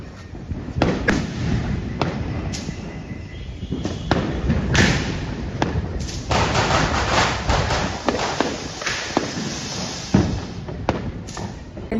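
Firecrackers burst on a rainy Diwali night during a power cut, a string of sharp cracks and thumps at irregular intervals, close and loud, with a few fainter pops between.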